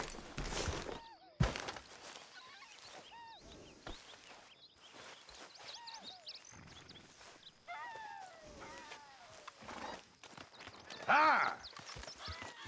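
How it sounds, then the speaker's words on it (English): Horse hooves clip-clop in Red Dead Redemption 2, with a whinny near the end, under game characters talking. "get that horse out of here"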